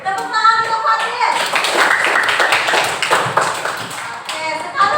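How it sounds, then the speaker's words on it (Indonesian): Classroom applause for a student named Fatin, a burst of clapping from a group of children running through most of the moment, with teacher and kids' voices mixed in. "Tepuk tangan untuk Fatin"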